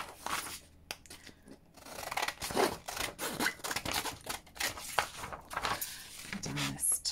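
Scissors snip through paper while junk journal cards are trimmed, a run of short crisp cuts and rustles at close range, with some handling noise between strokes.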